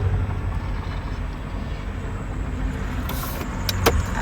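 A car drives along with a steady road rumble and engine hum heard from inside the cabin, a few faint clicks and rattles near the end.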